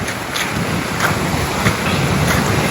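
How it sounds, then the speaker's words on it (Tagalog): Strong ocean waves surging near a shoreline, a continuous broadband wash with wind buffeting the microphone and periodic swells rising and falling. "Grabe lakas ng"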